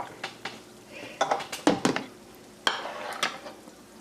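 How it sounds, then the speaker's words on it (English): Roasting potatoes in a metal pan take a pour of oil, with clattering pan and utensil knocks in short bursts over a soft sizzle, close and fairly loud. "I'm just putting oil over top of them."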